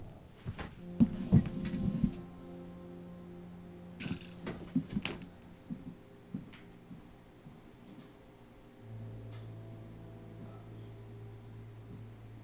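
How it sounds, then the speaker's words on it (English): A cat close by makes a few short vocal sounds early on and then settles into a steady low purring hum, with light handling noises in between. "The cat's right here, bro."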